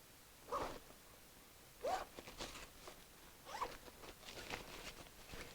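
Zipper on a Garmin Striker 4 portable kit bag being pulled open in several short, quiet rasping strokes spaced a second or so apart, close by, with no voices.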